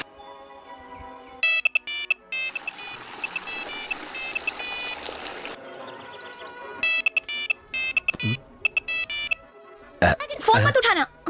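A phone ringtone plays in bursts of repeated electronic beeping tones, loud and close, separated by short pauses, with other sounds mixed in toward the end.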